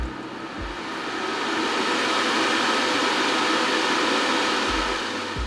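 An air purifier fan running at its fastest, noisiest setting gives a loud, steady broadband whoosh that holds constant throughout, with a couple of low thumps near the start and end.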